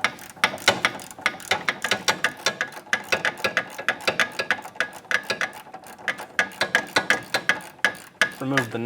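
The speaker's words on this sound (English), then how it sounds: "Using a 17mm socket, we're going to remove the nut off the back side of the sway bar link" A ratchet with a 17mm socket clicks in rapid, even bursts while loosening the nut on the back side of a front sway bar link on a 2003-2007 Infiniti G35, close-up and distinct, with brief pauses between runs.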